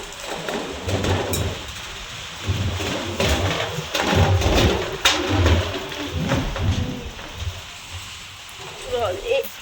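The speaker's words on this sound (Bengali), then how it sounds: "এই যে কর্গের টিন আছে না, এর একটা বিশাল আওয়াজ হয়" Heavy rain pours onto a corrugated tin roof in Bhubaneswar, a steady close roar with rumbling low thunder-like swells running throughout, and a faint bird call near the end.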